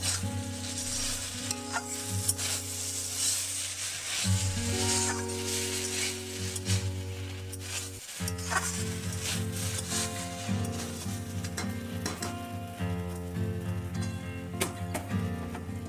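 Ginger paste sizzles and crackles in hot oil in a pan as it is stirred, with scraping strokes and bursts of frying noise. Faint tonal music plays steadily in the background throughout.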